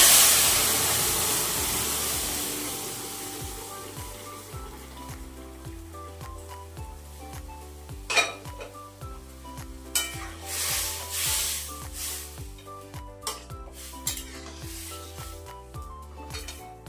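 Boiled chana dal cooked with turmeric and salt is poured into a hot pan, with a loud gush and hiss at first that settles into a steady sizzle and occasional stirring scrapes, heard up close under background music.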